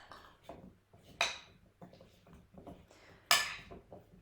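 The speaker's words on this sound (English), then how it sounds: "add the olive oil to the sweet potatoes that are in the bowl, and then I'm just going to mix it in" Sweet potato pieces tossed with olive oil in a bowl, giving a few soft scraping and clinking knocks of a utensil against the dish, two sharper clatters standing out amid quiet stirring.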